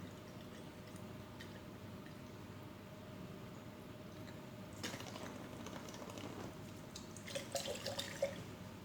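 A steady low watery rush with faint trickling, quiet and continuous, getting slightly busier with a few brighter splashes toward the end, as distilled water pours into a laboratory flask.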